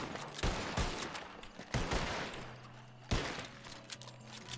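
Gunfire in the RedM Western video game: several sharp shots crack out in a ragged burst, with distinct loud reports near the start, middle and end over a busy background.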